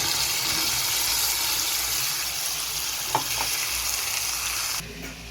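Egg biryani masala with tomato puree frying in a pan makes a steady, close sizzle with one faint clink partway through, then drops away abruptly just before the end.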